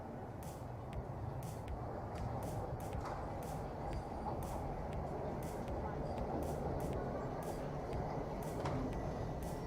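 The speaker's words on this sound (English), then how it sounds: "And here comes the train." A train pulls into a station, its steady low rumble filling the scene while a voice talks over it and faint clicks and bumps come through.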